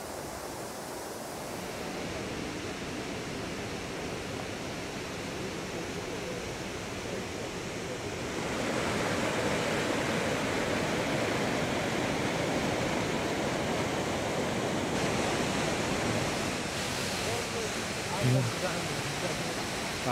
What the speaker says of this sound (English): this is now the river, and we have a weir, and the weir is where we harness the water